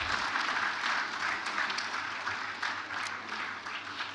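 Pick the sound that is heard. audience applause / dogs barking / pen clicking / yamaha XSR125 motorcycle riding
audience applause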